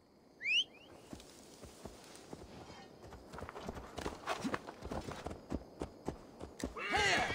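A horse gallops in Assassin's Creed Valhalla, its hoofbeats building from scattered thuds into a quickening clip-clop rhythm, preceded by a brief whinny-like call and ending with a louder burst of movement.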